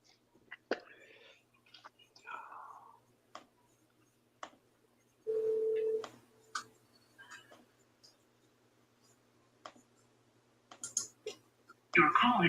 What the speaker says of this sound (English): Time to call from my cell phone.